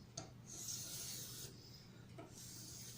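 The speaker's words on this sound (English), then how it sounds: "So I wanted to increase the number of strokes with the fine stone" A knife is drawn across a fine whetstone in two or three long rubbing strokes, each a soft, close, hissing scrape, with no talk.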